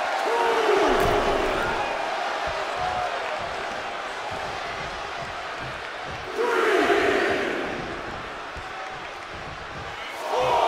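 Arena crowd in the wrestling video game WWE 2K24 roars and cheers steadily during a match, swelling into louder surges around the middle and again at the end, with no talk over it.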